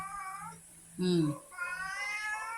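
Cats squabble indoors at home. One short, sharp yowl rises out of the people talking around it.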